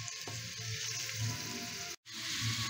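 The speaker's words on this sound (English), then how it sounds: "while that's giving a sizzle" Carrots sizzling in a pan for yellow curry, a continuous close hiss of frying with soft crackles and a brief cut near the end.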